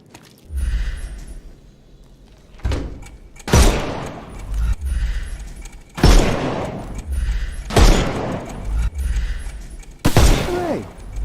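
Gunfire rings out in a Sherlock Holmes game, several loud sharp shots a second or two apart, each followed by a brief ringing tail over a low background bed.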